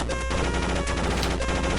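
Enemy fire in a Contra video game, a dense, loud burst of rapid retro gunshots and explosive clatter filling the whole moment without pause.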